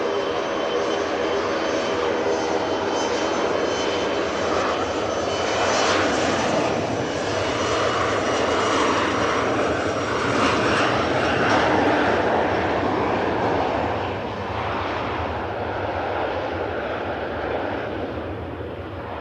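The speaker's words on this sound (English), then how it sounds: "Quite a common, frequent visitor to Manchester, that plane. ERJ 145 Embraer." An Embraer ERJ 145 regional jet departs runway 05 Left at Manchester Airport, its engine roar broad, loud and steady throughout, easing only slightly near the end, with no talk over it.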